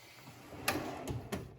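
A drawer on a rolling toolbox cart in a small engine repair shop slides out, giving a few short metallic clunks and rattles spaced about a second apart, fairly quiet and close by.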